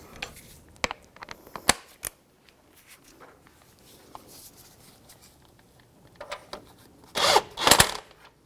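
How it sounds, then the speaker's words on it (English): A 21mm socket on a ratchet snugs down the front outer tie rod nut on a 2011-2017 Honda Odyssey: scattered sharp metallic clicks, then a short quick burst of ratcheting near the end, close and with no talking. "So we're just going to snug it down and then we'll torque it."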